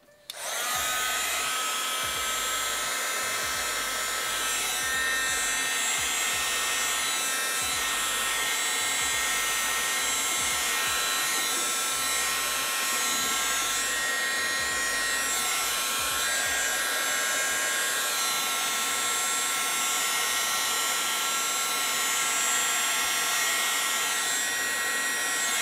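A hot air tool blows on heat shrink tubing over connectors, a loud, steady whirring hiss that starts abruptly and runs unbroken at close range for the whole stretch.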